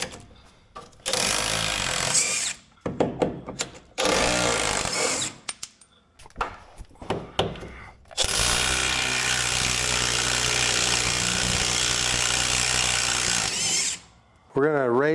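Power tool removing pan-to-chassis bolts from underneath a 1974 VW Thing, loud close impact-style bursts repeating in several short runs, then a long sustained rattling stretch, ending with a brief high whine.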